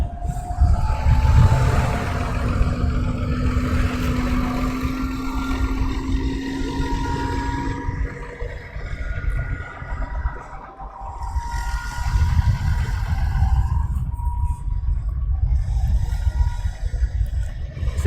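EasyJet airliner engines running on an airport test bed on a windy afternoon, a steady broadband roar with sustained tonal whine lasting throughout, loud and continuous with slight swells.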